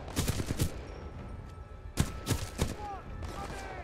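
Bursts of gunfire in the video game Titanfall 2, several sharp volleys near the start and again around the middle, over a steady hum of battle noise with distant whines.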